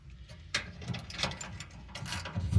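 A ratchet tightening a bolt on a Volkswagen Vanagon gas tank, a string of close, rough clicking pawl strokes in uneven bursts, growing louder toward the end.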